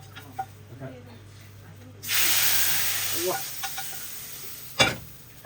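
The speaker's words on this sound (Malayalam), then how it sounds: "അപ്പോൾ കറിയിലേക്ക് നമ്മൾ താളിച്ച ചെറുള്ളിലേക്ക് കൂടി താളിച്ച ആ ഒരു ഐറ്റം ചേർത്ത് കൊടുക്കുകയാണ്" Fried shallot tempering is poured into an Angamaly-style fish curry with mango and coconut milk, bursting into a loud sizzle that fades slowly over a few seconds. A sharp clatter follows near the end.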